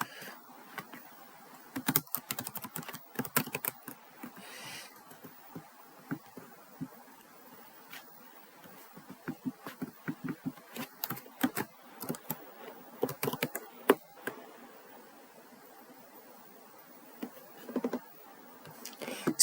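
Someone types on a computer keyboard during NetApp ONTAP administration work, producing quick irregular bursts of close key clicks with brief pauses, louder presses and faint room hush between.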